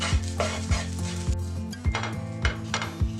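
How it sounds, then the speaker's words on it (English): A metal spoon scrapes and knocks against a pan while rice is stirred together with Schezwan chutney, giving steady rhythmic clinks and scrapes up close over a soft background hum. "Add Schezwan chutney and combine well with the rice."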